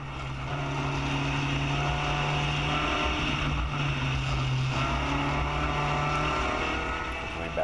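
A Spec Racer Ford GEN3 race car on the main straight at Texas World Speedway gives a steady, loud engine drone that holds at a constant pitch throughout, heard from on board with no talk.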